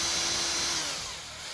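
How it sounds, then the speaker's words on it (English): A drill fitted with a flexible bit for drilling round corners gives a steady high whine that slowly winds down near the end. "A flexible drill bit so you can drill round corners."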